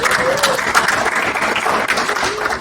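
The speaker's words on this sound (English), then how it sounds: "let's go ahead and get to a round of applause" An audience breaks into sustained applause, a dense, loud wash of many hands clapping together, with a few voices underneath.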